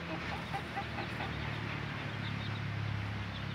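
A rooster on a village chicken farm, recovering from a serious injury, calls amid steady farmyard background noise at moderate distance, with no talking.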